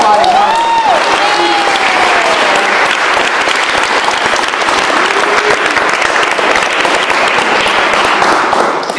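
An audience at a poetry event honoring Alice Notley breaks into loud, dense, continuous applause that fills the room for the whole stretch, with a brief whistle-like tone sweeping over it early on.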